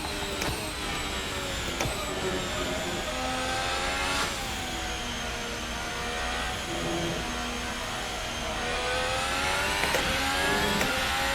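A Formula Hybrid race car in Assetto Corsa drives a charging lap with a loud, close, continuous high-pitched engine whine that rises and dips with gear changes and throttle, heard alone.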